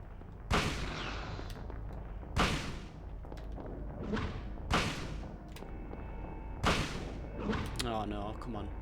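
Four loud, evenly spaced gunshots from a boss's gun in the Silent Hill video game, each a sharp crack with a ringing tail, while a player talks faintly underneath.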